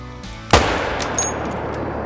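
A single loud, sharp crack from a Solikin MN 1890 rifle in a hunting video game, with a quick decaying echo, followed a moment later by a softer metallic bolt click, heard alone against low ambient hum.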